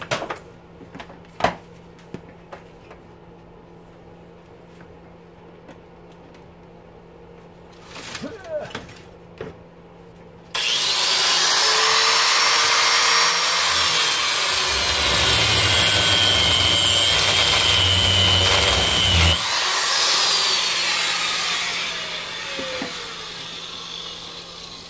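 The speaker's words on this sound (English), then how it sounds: "We're gonna hit it with a grinder." Angle grinder cutting into a furnace sump pump part starts abruptly with a loud, steady, harsh whine that holds for about ten seconds and then fades, after scattered handling knocks at the start.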